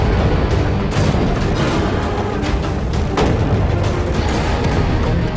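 Gunfire at a metal shipping container, a dense rumbling barrage of repeated shots and booms with sharp cracks near one second and three seconds, loud and continuous throughout with no voices.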